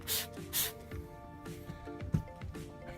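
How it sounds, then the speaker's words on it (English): Vinegar is sprayed onto the fabric seat belts of a 1999 Miata during mold cleanup: two sharp hissing trigger-spray bursts up front, then softer rubbing and handling noises over a low background tone. "just spray as much as I can, spray the seat belts"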